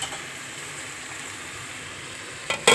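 Fried rice in a pan, salted and stirred, gives a steady soft sizzle throughout, broken near the end by a couple of sharp clatters.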